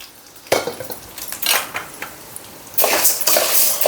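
Dal and cumin seeds fried in hot oil in a pan, heard as irregular scraping and clattering of a ladle against metal over a light sizzle that swells louder toward the end.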